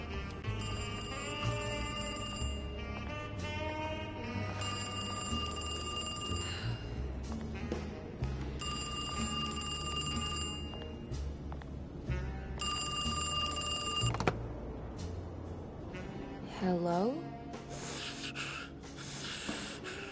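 An old-fashioned telephone bell rings in repeated bursts over about twenty seconds, each ring followed by a pause, heard over a soft background of smooth jazz with no talking.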